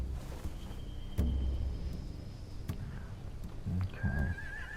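Horses neigh and whinny in a zombie-survival video game set among hay, with hoof clip-clop and a sharp thump; a low loud whinny early, another near the end, and a rising squeal, all close and without speech.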